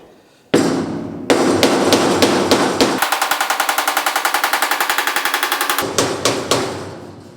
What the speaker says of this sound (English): the piece of 2x2 is my dolly, and this is my hammer